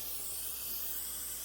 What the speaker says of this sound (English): Spray some penetrating fluid on here